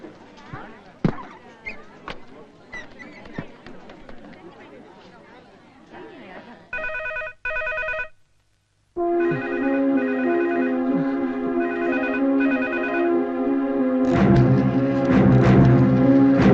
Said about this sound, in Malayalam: ഞാനൊന്ന് ഫോൺ ചെയ്തോട്ടെ.